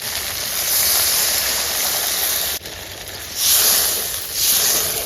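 Water poured into hot fried spice paste for a rohu fish curry gives a loud, steady sizzling hiss, with a short dip and then two fresh surges of steam as more liquid hits the pan.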